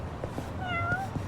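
A single short cat meow from the video game Yakuza Like A Dragon, a clear rising-falling mew over a soft background hum.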